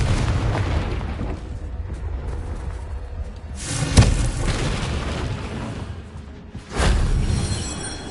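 Confringo blasting spell in Hogwarts Legacy detonates with a loud booming explosion at about four seconds, followed by a rumbling tail, amid a dense, noisy in-game mix with another burst near the end.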